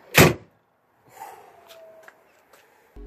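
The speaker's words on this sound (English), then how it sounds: "Does the door shut?" A small camper van's door slams shut with a single sharp thud at the start, followed by a few faint rustles and shuffling sounds nearby, with no talking.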